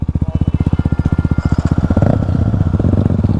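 A motorcycle engine idles up close with a rapid, even putter, then roughens into a louder, steadier running note near the end, with no voices.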